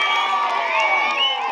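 A village crowd gathered for a rangoli (muggulu) competition in Jettipalem breaks into sustained applause and cheering, a dense, steady wash of clapping and shouts at close range with no gaps.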